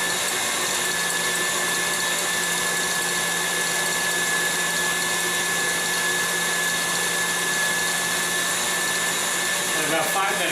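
An electric mixer whips egg whites with cream of tartar and sugar for a chocolate soufflé, a loud, constant whirring drone that holds unbroken from start to finish.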